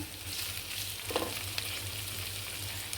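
Chopped cabbage added to a pan with meat and frying, a close, steady sizzle with a few stirring scrapes and a low background hum, no one talking.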